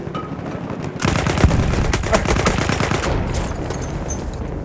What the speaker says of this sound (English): somebody shooting me from there